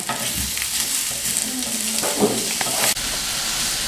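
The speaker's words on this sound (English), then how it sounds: "who doesn't love the smell of sauteing onions?" Onions sautéing in a home kitchen pan, a steady close sizzle and hiss with occasional stirring scrapes and a brief clunk near the end.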